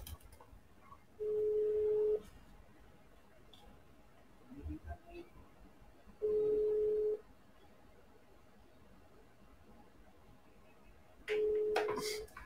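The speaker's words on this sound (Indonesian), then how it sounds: "Berdering sih." Ringing tone of an outgoing video call: three flat, steady beeps about a second long, spaced several seconds apart, with faint room noise and quiet voices in between.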